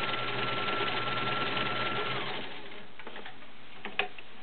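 A vintage Kenmore model 1601 sewing machine stitches a decorative pattern with a steady, close mechanical hum that stops partway through, leaving faint clicks and handling noises.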